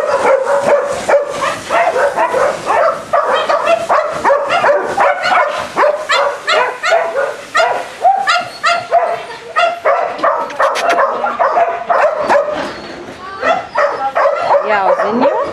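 Several dogs out on a walk give repeated barks and high yips, fairly close and loud, mixed with whimpers throughout, while a person talks over them and calls out names.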